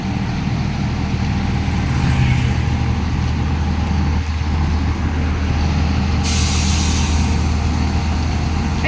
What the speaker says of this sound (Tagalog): Maingay ang bus.